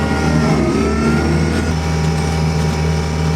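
An orchard tractor engine drones loudly up close as it accelerates, a steady mid-pitched mechanical roar with a rising tone partway through and no talking.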